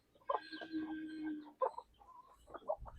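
Country chickens on a native chicken farm cluck and call close by, a drawn-out squawk followed by short broken clucks, with no talk over them.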